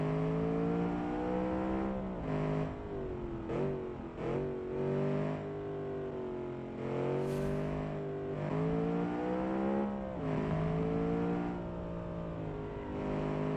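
A naturally aspirated 4.6-litre V8 all-wheel-drive car, around 500 horsepower, revs hard in a racing video game. The engine note climbs and drops in repeated gear-shift sweeps and stays loud and continuous with no talking.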